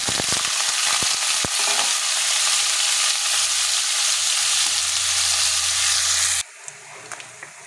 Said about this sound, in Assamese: তেল গৰম হৈ গ'ল, পনীৰকণ ভাজি